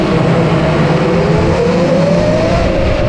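A 12 kW Surron electric supermoto accelerates hard on a karting track, its loud motor whine rising steadily in pitch over a few seconds, close and continuous with no talk.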